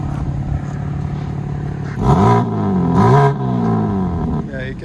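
A BMW M3/M4 with a 3.0L turbo engine and a resonator-delete exhaust idles with a steady rumble, then revs loudly twice in rising and falling swells before settling back, close by.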